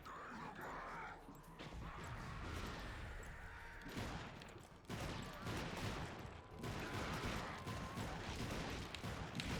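Heavy gunfire in the Darkwatch video game roars in sustained, dense volleys with crashing impacts, several long bursts broken by brief drops in loudness.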